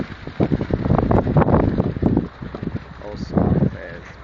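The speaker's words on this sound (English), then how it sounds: "the wind is crazy" Strong wind gusting through a New York City street during a snowstorm, buffeting the microphone with loud, close roaring bursts that rise and fall, with a brief lull midway.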